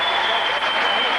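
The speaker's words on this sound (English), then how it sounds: "a huge round of applause from this audience" Audience applause in an arena at the 2003 European Weightlifting Championships, +105 kg class, a short, loud, continuous burst of clapping.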